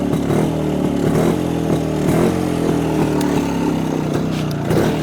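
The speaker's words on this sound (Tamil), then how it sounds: "நீங்கள் எக்ஸாஸ்ட் நோட் கேளுங்க, ரொம்ப ஷார்ப்பாக இருக்கும்." A 1990s two-stroke motorcycle idles and revs close by, its sharp, crackling exhaust note steady and loud throughout with a rapid, buzzing pulse and slight rises in pitch.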